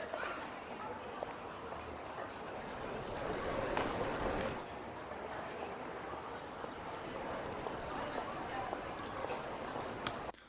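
A sound-designed ambience of Waterdeep, the City of Splendors, with docks, a crowd of people and a market, forming a dense, steady wash of distant chatter, movement and water-like rush that swells slightly partway through.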